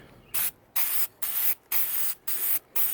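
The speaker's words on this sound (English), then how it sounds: "These cans are nice in that they allow you to spray from just about any angle." Short bursts from a spray can coating the chassis of a 1937 Westinghouse WR-212 radio, about six evenly spaced hissing pulses with brief pauses between them, close and fairly loud.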